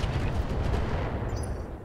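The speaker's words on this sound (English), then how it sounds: "Expose our non-damaged side to this guy and fire." Mech weapons firing in the Roguetech BattleTech video game, a dense rumbling barrage of low booms and impacts sustained through the moment at moderate loudness.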